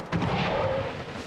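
A huge, deep fireworks blast booms out in the Planet Coaster theme-park game, a dense rumbling burst that swells and rolls on continuously without a clear end.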